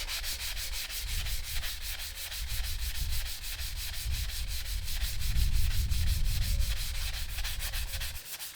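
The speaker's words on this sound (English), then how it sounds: "I'm just going to remove a bit of this rust and build up of material on the blade with this sandpaper." Sandpaper rubbing rust and built-up material off a garden tool blade, rapid rhythmic scratchy strokes, close and continuous with no talking.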